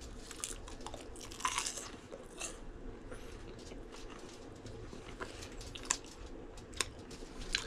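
Someone chews home freeze-dried food close up, with soft irregular crunches and bites and a few sharper snaps over a quiet background.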